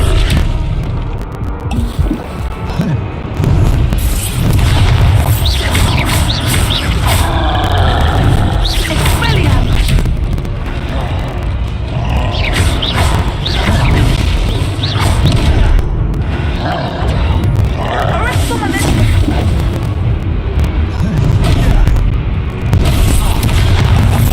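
Expelliarmus disarming-spell blasts in Hogwarts Legacy combat boom loudly over dense, continuous game noise, with heavy low rumbles and scattered impacts running throughout.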